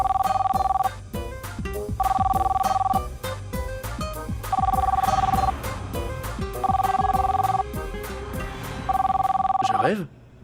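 A telephone bell rings loudly in repeated bursts of about a second each, evenly spaced over ten seconds, with background music and other sounds beneath and a brief swell at the end.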